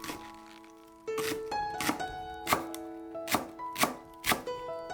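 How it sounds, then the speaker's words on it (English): Knife mincing 30 grams of spring onion on a cutting board, heard as a series of sharp, evenly spaced chopping thuds close up, with music playing underneath. "Mince 30 grams of spring onion."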